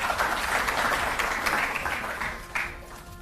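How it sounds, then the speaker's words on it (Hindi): Audience applause at a Delhi sports felicitation event honouring players, a steady wash of many hands clapping at moderate distance that thins slightly toward the end, with no talk over it. "एक बार जोरदार तालियों से आप उनका अभिनंदन करें"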